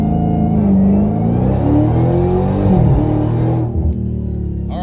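A Dodge Demon 170 launches hard from 0 to 60 on a street, its engine roaring loud and steady as revs climb through several gear pulls, then cutting off abruptly near the end.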